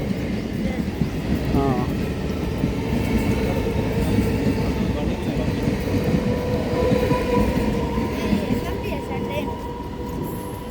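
A train pulls into Charlapalli railway station, a steady rumbling roar of rail wagons running through the whole stretch at close range, with crowd chatter and voices mixed underneath.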